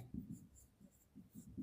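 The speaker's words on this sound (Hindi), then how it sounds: "प्राइम फैक्टर्स लिखेंगे" A pen scratches across paper in short, quick strokes, a series of faint, close scribbling bursts with brief pauses between them while math working is written out.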